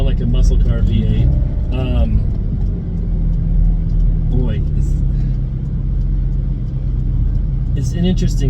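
A modified 1998 Lotus Esprit with a 3.5-liter flat-plane twin-turbo V8 drones steadily from inside the car, with a low rumbling tone rising and falling while people talk over it.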